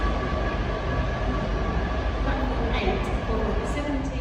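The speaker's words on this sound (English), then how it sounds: "just leaving Huddersfield now, and we're on the Newcastle train." Steady low rumble of a Newcastle-bound train pulling out of Huddersfield station, heard from inside the carriage, with a constant drone and faint rattling under it.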